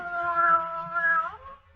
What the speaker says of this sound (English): The cat. The cat with the yellow eyes.